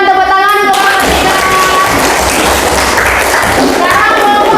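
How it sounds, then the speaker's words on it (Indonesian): A classroom audience clapping for presenting student groups, with loud dense applause mixed with children's chatter and crowd noise throughout. "Kita berikan tepuk tangan untuk mereka."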